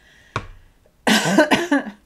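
A short cough, then a louder burst of several harsh coughs in quick succession, close and clear.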